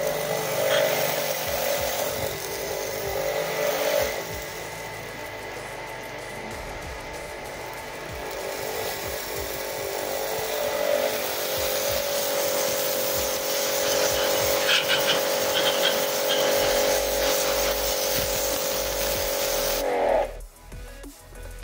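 An ABW70 jet cleaner pressure washer motor runs loud and close with a steady droning whine, spraying toward a wall from about 1.5 meters, and the sound cuts out abruptly near the end.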